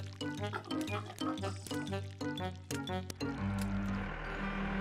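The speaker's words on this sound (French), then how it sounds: "Les cochons se baignaient dans la boue." Several pigs wallowing in mud oink and grunt in quick bursts over wet, squelching noises, ending in a longer sloppy slurping sound.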